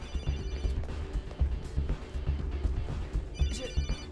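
A mobile phone ringing in a tense scene from the 2009 action film 12 Rounds, electronic ringtone repeating under background noise and movement.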